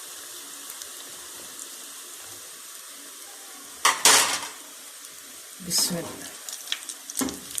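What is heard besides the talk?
potato balls frying in hot oil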